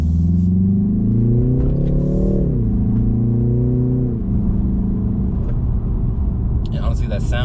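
A 2020 BMW 330i engine drones steadily while driving, its pitch rising as the car accelerates then dropping and settling into a lower hum, close and prominent with road rumble beneath.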